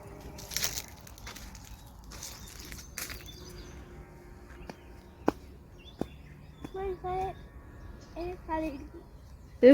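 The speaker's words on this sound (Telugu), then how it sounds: "పిచ్చుకల సౌండ్ బాగా వినిపించింది మాకు." Sparrows chirp in a garden around Ugadi, with short, bright twittering calls clustered toward the end over a quiet outdoor background, along with scattered clicks and faint voices.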